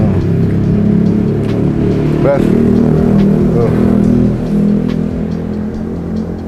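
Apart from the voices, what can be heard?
loud aftermarket exhaust of a passing vehicle revving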